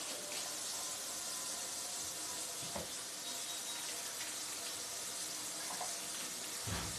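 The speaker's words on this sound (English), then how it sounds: "let me wash my hands off here." Tap water runs steadily into a sink as hands are washed in a home kitchen, a continuous close wash with faint clatter and a few soft knocks along the way.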